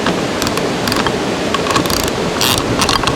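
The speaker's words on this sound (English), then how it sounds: "Then I'll go around and snug these bolts up." Bolts on an Airstream trailer's sewer valve are snugged up with a ratcheting tool, giving quick bursts of close clicking over steady background noise.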